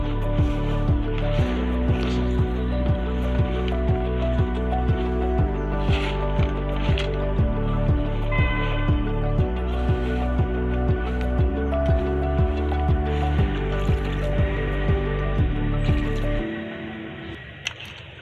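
Black soldier fly larvae feed is mixed with water by hand, making rhythmic wet squelching strokes over a steady low hum that stop shortly before the end.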